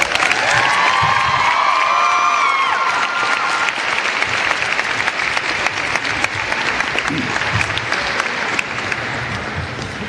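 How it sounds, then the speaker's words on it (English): A high school graduation crowd bursts into loud, sustained applause with cheering and whoops, shrill whistles and shouts rising over the dense clapping throughout. "I wish we could applaud with brevity"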